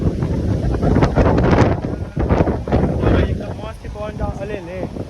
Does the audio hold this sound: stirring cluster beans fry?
no